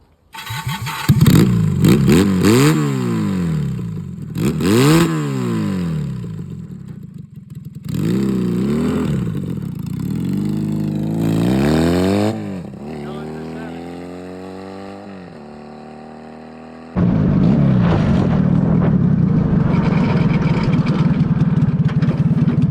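A motorcycle engine powering a Snapper lawn mower revs hard through repeated rising and falling sweeps as it shifts up into fifth gear, loud and close, easing off near the end before a steady roar resumes.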